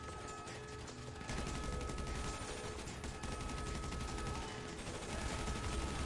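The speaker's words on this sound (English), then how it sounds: "I'm getting shot at." Gunfire in the video game Grand Theft Auto V, dense rapid bursts of automatic shots running continuously, loud and unbroken, with no talk over it.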